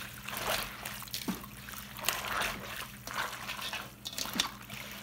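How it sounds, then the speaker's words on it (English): Water trickling and splashing into a bowl of jasmine rice set to soak, a steady, moderately close pour with small splatters and sloshes. "I soak the jasmine rice."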